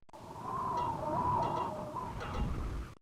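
Video-game chickens cluck steadily in a low, continuous murmur with a few sharper clucks, moderately close and fairly quiet, in a Wild West game.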